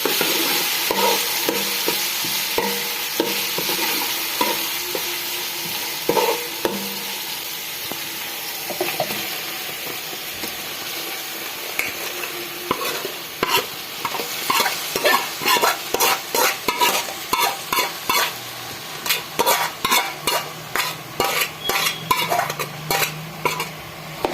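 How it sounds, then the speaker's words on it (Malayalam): Chicken curry sautés in oil in a pot over a wood-fired stove, a steady sizzle with repeated scraping and stirring clatter that grows busier and more rhythmic toward the end, close and without talk. "നമുക്ക് ഇനി ഒരു അഞ്ച് മിനിറ്റ് ഇതൊന്ന് ഈ എണ്ണയിൽ ഒന്ന് കിടന്നൊന്ന് വഴറ്റി"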